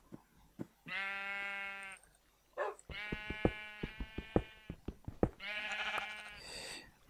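Sheep bleating in the Minecraft video game, three drawn-out nasal bleats spaced a couple of seconds apart, fairly close, with short clicking knocks in between.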